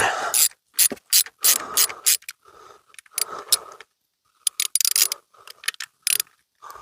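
A ratchet on an extender cranks loose drain bolts during a car oil change, giving bursts of rapid metallic clicking separated by short pauses, close and fairly loud.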